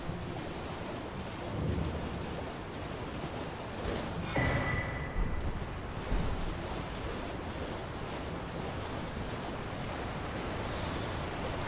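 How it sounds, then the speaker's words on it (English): A waterfall in the video game Elden Ring, a constant dense rush of falling water like heavy surf, with a brief louder splash in the middle and no speech. "I believe you can get underneath this waterfall."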